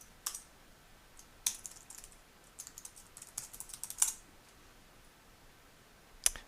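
Someone types on a computer keyboard while logging into a local server over SSH, with sparse, quiet clicking key presses in short irregular bursts and a few sharper taps.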